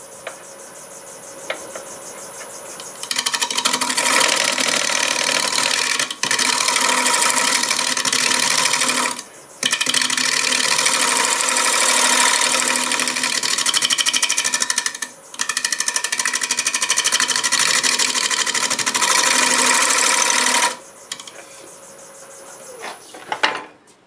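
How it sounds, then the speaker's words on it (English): A negative rake scraper cuts an elm wood bowl spinning on a lathe, giving loud, sustained rasping chatter in long bursts broken by short pauses, with the motor hum running quietly before and after. "I'm going to go over it with the negative rake scraper and get this cleaned up before I go any deeper."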